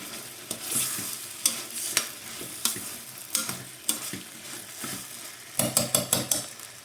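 A ladle stirs potato, tomato and drumstick curry gravy in a pan, with repeated close scrapes and clinks against the metal under a soft sizzle, quickening into a cluster of sharp strokes near the end.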